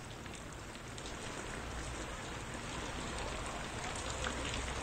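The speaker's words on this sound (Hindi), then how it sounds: "यहाँ पे शदीद बारिश हो रही है" Heavy rain pours steadily in Bandipora, Kashmir, a dense, unbroken hiss of drops striking surfaces nearby, loud and constant with no voices.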